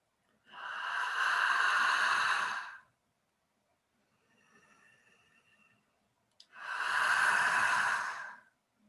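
Two long, loud breathy inhales or sighs from one person, each lasting about two seconds, separated by a quieter stretch of soft breathing, all close to the listener.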